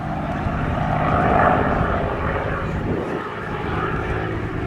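Supermarine Spitfire with a restored Rolls-Royce Merlin 66 engine at an air festival, a loud, continuous propeller-engine roar that swells and eases slightly as the aircraft passes.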